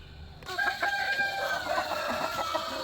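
A Leghorn rooster crows loudly and close, one long drawn-out call that starts suddenly, over steady background noise with some clucking.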